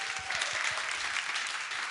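Listeners at a church special lecture by a trot-singing pastor clap in a short, dense burst of applause. It is fairly loud and even, with no talking over it.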